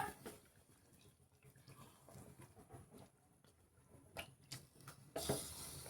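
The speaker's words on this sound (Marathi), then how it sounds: "3 वाटे मी तांदूळ घेतलेले होते, तर 6 वाटे मी पाणी टाकून घेणार आहे." Water poured into a pot of rice and vegetables for Maharashtrian masala bhat gives a soft, steady patter and trickle throughout, with a louder splash near the end.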